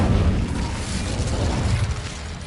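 An Incendio fire spell blast in Hogwarts Legacy, a loud roaring burst of flame that rumbles on with sustained force for a couple of seconds, with no talk over it.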